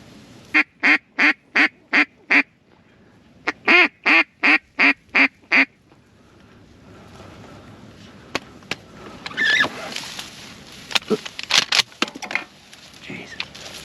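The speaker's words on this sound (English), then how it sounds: "Here comes some geese" Geese honk in two rapid runs of about six calls each, loud and close, during a Wisconsin duck hunt before shooting light, followed by scattered clatter and rustling.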